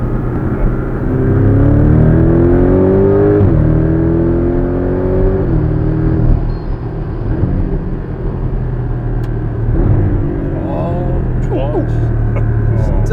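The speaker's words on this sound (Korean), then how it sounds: "진짜 이게 사기통에서 나오는 엔진음이라고" A Porsche 718 Cayman GTS four-cylinder engine's exhaust, in Sport Plus mode, rises and falls through repeated revs and gear shifts, loud and close, easing to a lower drone, then picking up again.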